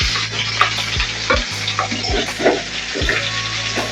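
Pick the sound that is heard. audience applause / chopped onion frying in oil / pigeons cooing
chopped onion frying in oil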